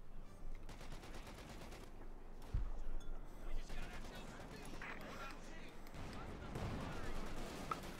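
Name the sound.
tank and gun fire in video game Company of Heroes 2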